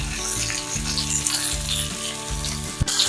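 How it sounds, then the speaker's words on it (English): Breaded chicken cutlet frying in a pan for crispy chicken Milanese gives a steady, loud, close sizzle with crackling texture, continuous throughout with a brief sharp knock near the end and no talking. "when my chicken is sizzling away"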